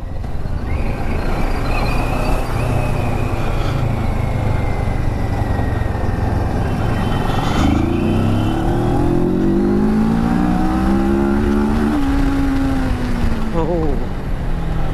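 A 2020 CFMoto 650GT sports-tourer motorcycle engine pulls hard and climbs in pitch as it shifts up through the gears at speed, with wind rush and someone talking over the ride.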